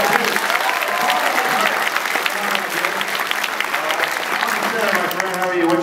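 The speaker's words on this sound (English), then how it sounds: "How about a round of applause" A Comic Con audience at a celebrity Q&A panel applauds in a steady, dense wash of clapping that runs the whole way through, with a few voices calling out over it.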